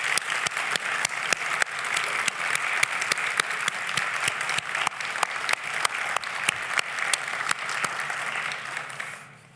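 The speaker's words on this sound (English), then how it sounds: "would you please join me in giving all those folks a round of thank you applause" Sustained applause from a convocation audience at a fall graduation ceremony, dense steady clapping with sharp individual claps standing out, holding for about nine seconds before fading at the end.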